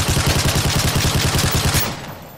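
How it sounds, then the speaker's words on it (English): Rapid automatic gunfire sound effect for a toy robot's weapons in a stop-motion animation, a loud, close burst of evenly spaced shots lasting about two seconds, then fading. "what are you shooting at?"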